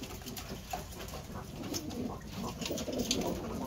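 Turkish game pigeons cooing in a crowded loft, soft overlapping coos and low throaty calls repeating at moderate distance against a faint background hum.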